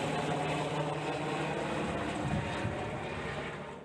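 Two water-bombing helicopters fly over a land fire, giving a continuous broad rotor and engine roar that holds steady at a moderate distance and fades slightly toward the end, with no voices.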